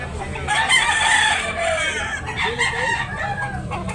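A bullstag rooster at a chicken market in Tabunok, Talisay, Cebu crows once, loud and close, a drawn-out call rising then trailing off over faint background noise.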